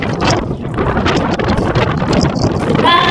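Strong wind on a farm buffets the microphone in continuous loud gusts, with a rough rushing roar that never lets up.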